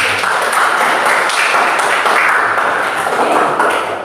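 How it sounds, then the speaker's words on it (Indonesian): Classroom applause for students, a dense burst of many hands clapping together, loud and close, sustained for a few seconds before easing off. "Ya, bagus sekali, kita kasih aplaus."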